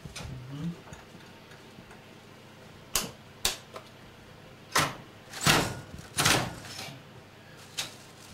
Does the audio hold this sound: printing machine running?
yes